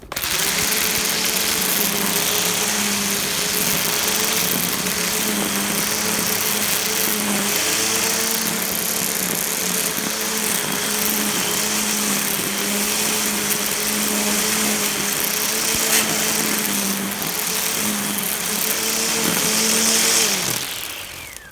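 A McAllister petrol strimmer runs at a steady, high-pitched whine for about twenty seconds, loud and close, with a few brief throttle wobbles before cutting off abruptly at the end.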